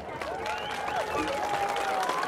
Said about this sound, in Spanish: díganmelo con aplausos